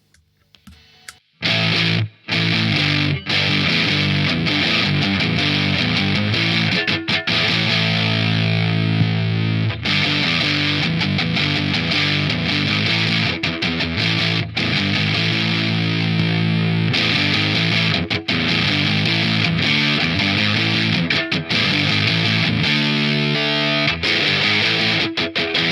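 Heavily distorted electric guitar through a Joyo Splinter JF-21 distortion pedal, sustaining loud chords and riffs, its tone shifting as the knobs sweep, with brief pauses between phrases.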